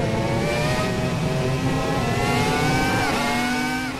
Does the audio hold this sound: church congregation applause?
no